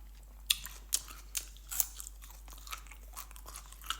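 Crisp, crunchy chewing with sharp bites every half second or so, close up and fairly quiet, with no talking.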